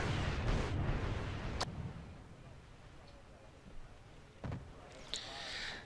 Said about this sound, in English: The artillery has to work overtime.